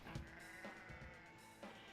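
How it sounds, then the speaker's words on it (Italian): Sheep bleat in the P5X video game, a few short wavering cries spaced through a quiet, faint background. "Oh no, le pecore."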